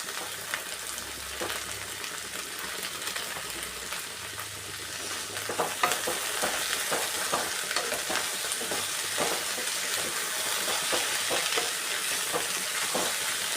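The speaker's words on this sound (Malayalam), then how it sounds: "നല്ലോണം ഇളക്കി ഒന്ന് വഴറ്റിയെടുക്കാം." Okra and chopped drumstick stir-fried in a pan for a Kerala-style lunch side dish, with a steady close sizzle and repeated scraping stir strokes throughout, no talking.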